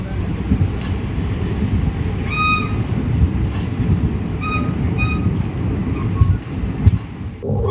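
Running noise of the 12603 Hyderabad Superfast Express after leaving Nalgonda: steady loud rumble and rattle of the carriage on the rails, heard from inside, with a few brief high tones and clanks and no talk.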